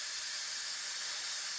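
Steady hiss of steam escaping from a pressure canner used for canning rice, a soft continuous rush with no breaks, alone and fairly quiet throughout.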